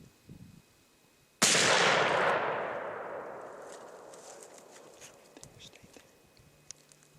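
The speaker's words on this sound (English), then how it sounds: "you actually get to see the hunter and the deer along with the big explosion that comes with hunting with a muzzleloader" A black powder muzzleloader rifle fires a single loud, sharp blast at a deer, followed by a long, slowly decaying boom and rumble that fades into quiet outdoor ambience.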